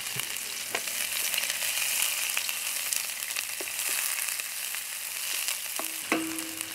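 Onions frying in olive oil in a pan for a scampi and asparagus risotto, a steady broadband sizzle close by with occasional clicks and stirring knocks, no voices.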